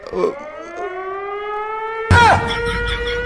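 A siren wails in the horror video game Just Don't Scream, a loud, steady, rising electronic tone. A sudden, louder, harsher burst cuts in partway through and overlaps the wail.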